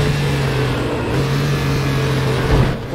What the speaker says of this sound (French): On entend bien le son très symbolique d'un 6 cylindres.